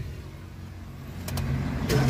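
Suzuki Every minivan with automatic transmission cranking and starting, a low engine rumble building after a quiet idle-like lead-in, with sharp clicks near the end, close by and moderately loud, no talking.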